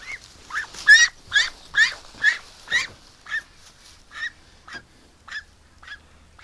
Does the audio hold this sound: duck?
yes